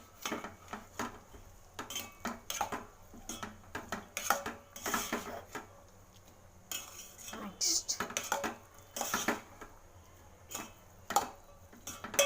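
Cooked rice being stirred and mixed with masala in a pan for a Rajasthani dish, with repeated clinking and scraping of a utensil against the metal pan in an irregular rhythm, close and fairly quiet, with no talk.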